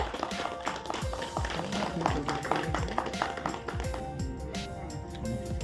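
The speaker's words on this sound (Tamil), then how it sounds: "கைத்தட்டல் கொடுத்துடலாம் நம்மளுடைய கண்மொழியமாக" An audience at the audio launch of the Tamil film Karungulathaan claps for villain actor Rajesh as he is called on stage, a ragged patter of many hands mixed with light tapping and ringing tones.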